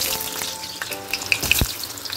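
Raw potatoes sizzle and crackle in very hot oil in a kadhai, a steady frying hiss with a few sharp pops, close and loud with no voices.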